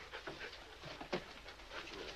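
A dog pants close by in short, quick, breathy bursts. One slightly louder whimpering breath comes near the middle, under a faint background hum.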